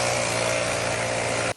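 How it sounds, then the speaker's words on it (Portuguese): A leaf blower used by firefighters against a forest fire on a mountain range, roaring loud and continuous with a steady motor drone before stopping abruptly. "com auxílio do soprador, tentam apagar o fogo"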